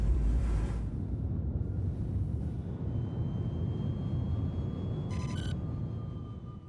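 Spaceship taxiing in to land in Star Citizen, a continuous low engine rumble with a faint high whine, steady throughout, plus a short burst of clicking beeps near the end.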